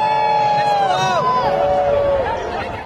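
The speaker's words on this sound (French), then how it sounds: "il est hué par des fidèles" Pilgrims in St Peter's Square in Rome boo Manuel Valls as he appears on giant screens during a canonisation ceremony, a loud sustained crowd jeer with wavering, falling vocal tones over a background murmur.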